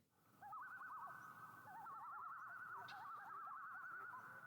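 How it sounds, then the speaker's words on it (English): Common loon giving its iconic tremolo call, a rapid wavering yodel repeated in several bursts over a steady background hiss, fairly close and clear with no voices. "a sound unlike almost any other in nature: the iconic tremolo of a common loon, Minnesota's state bird"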